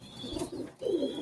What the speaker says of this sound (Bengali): এই জোড়াটা কি কবুতর ভাইজান? এটাও ওমান টেডি।